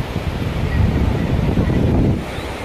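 Sea waves wash onto the shore at Bakkhali beach, a broad rolling roar that swells in the middle and then eases, heavily mixed with gusting wind buffeting the microphone.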